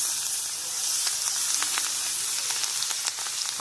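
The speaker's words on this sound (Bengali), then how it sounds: "রসুনটা একটু ভেজে নেব।" Crushed garlic paste sizzles in hot oil left over from frying fish, giving a steady close hiss with scattered small crackles and pops throughout.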